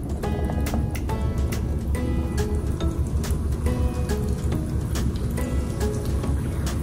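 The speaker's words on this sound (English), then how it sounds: "So open your can and pour your Sprite in the plastic cup." Sprite poured from a can into a plastic cup, a steady close fizzing pour with bubbly crackle and liquid gurgle that continues throughout.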